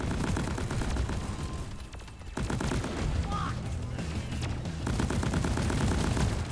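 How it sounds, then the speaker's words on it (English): An engineer's automated sentry gun in a video game fires rapid sustained bursts of gunfire, loud and close, with a brief pause partway through before the shooting resumes and continues. "Let the automated shooting begin."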